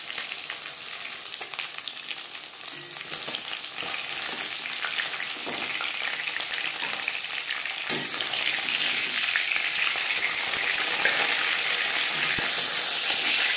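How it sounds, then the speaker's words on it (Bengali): Soft vetki fish fries in hot oil in a slightly scorched wok, giving a steady hissing sizzle with crackles that grows gradually louder over time, with no voices. "এই মাছ খুবই নরম মাছ, একটু সাবধানে ভাজতে হবে"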